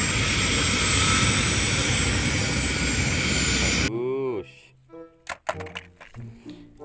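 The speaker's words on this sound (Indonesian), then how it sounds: "Ini helikopter." A toy helicopter gives off a loud, continuous whirring drone that cuts off abruptly partway through, followed by sparse electronic toy chirps and clicks.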